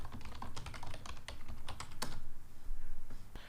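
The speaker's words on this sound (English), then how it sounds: "To go to the beginning of the line, I can hold the control button and press up." A computer keyboard clacks under quick, uneven keypresses at close range, a dense patter of short taps over a steady low hum, with no talking.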